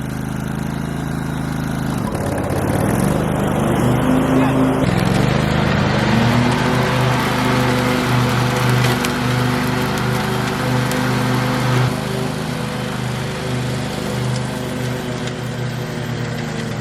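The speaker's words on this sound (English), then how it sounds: "Now let's see if the mower works." A lawn mower engine runs steadily at a cabin property, its droning hum starting up partway through and continuing loud and even to the end.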